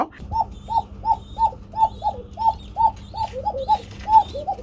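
A pigeon coos over and over in a steady, even rhythm, about a dozen soft calls close by, with a faint background hum.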